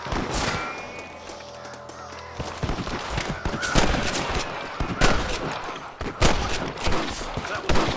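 Rapid gunfire from Red Dead Redemption, a western video game, crackles loud and near in dense bursts of overlapping shots with thuds, continuing almost without pause, with speech mixed in.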